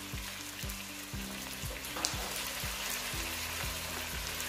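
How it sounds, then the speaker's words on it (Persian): Onion and garlic sautéing with tomato paste in a pan for a Persian dish, giving a constant dense sizzle and crackle close by with regular low clinks of a utensil against the pan, no voices. "کمی که پیاز تفت خورد، سیر رو بهش اضافه میکنم. بعد از سیر رب گوجه رو بهش اضافه میکنم."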